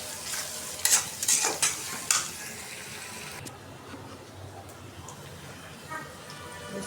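Onion, bay leaf, cinnamon and cardamom fry in a pan with a soft sizzle, broken early by a few sharp stirring scrapes before settling into a quieter hiss.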